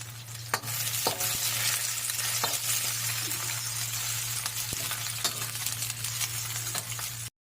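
Onions, chana dal, cumin, pepper, fennel and tamarind fry in a pan for curry leaf chutney, a steady loud sizzle with occasional clinks of a stirring spoon against the pan.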